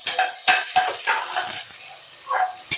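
Spices and onions frying in a pan of ghee for ghee rice, a steady close sizzle with a ladle stirring and scraping at intervals, plus a few sharp metallic clinks.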